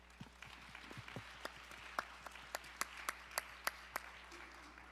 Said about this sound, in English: if we can just give him a round of applause